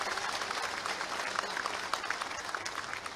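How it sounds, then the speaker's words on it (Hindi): A large crowd at a state Bihar Day celebration in Madhya Pradesh applauds to welcome a dignitary, a dense, moderately distant stretch of clapping with individual claps popping out of the mass. "माननीय विष्णुदत्त शर्मा जी के भी जोरदार ताली से स्वागत कर जाओ।"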